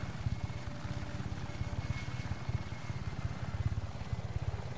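Helicopter in the video game Just Cause 3 setting down to land, rapid rotor thumping in a steady pulse with a constant engine drone, loud and close.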